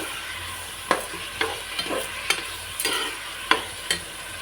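Toor dal sambar is stirred in a pot after salt goes in, a spoon scraping and knocking against the vessel in repeated strokes over a faint bubbling sizzle, close and unaccompanied by speech.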